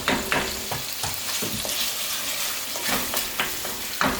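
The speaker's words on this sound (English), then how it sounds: "I'm gonna give that another 4 or 5 minutes just to sear it" Curry lamb chunks searing in a hot pot with no liquid added, a loud, close sizzle broken by repeated stirring scrapes and spatula knocks.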